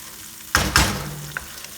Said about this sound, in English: I'm going to add my ginger paste, my garlic paste, and again stir it.